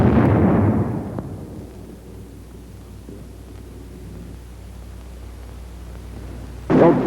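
Bazooka rocket blast hitting a sandbag emplacement: a loud broadband burst at the start decays into a long low rumble, followed by a second sharp burst near the end.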